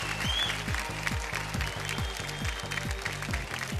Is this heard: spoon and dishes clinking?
no